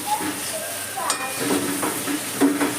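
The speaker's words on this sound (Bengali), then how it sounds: "আবারও আমি আপনাদের সামনে দেখুন নাড়ছি" Chicken curry stirred in a frying pan, a steady oily sizzle with scraping spoon strokes and occasional clinks against the metal, close and moderately loud.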